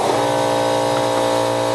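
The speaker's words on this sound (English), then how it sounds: "can hear my compressor kicking off into the other room there." A loud, steady mechanical drone with a strong hum, an air compressor running in another room, filling the whole moment without pause.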